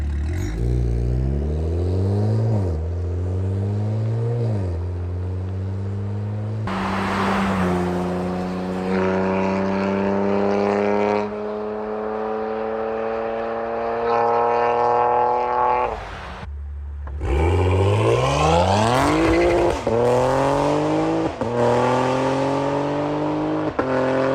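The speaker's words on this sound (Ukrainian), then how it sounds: "як буде звучати цей вихлоп" A BMW M3/M4 G8X sports car exhaust revs up and down repeatedly, rising and falling pitch with loud bursts, close by and with no talking.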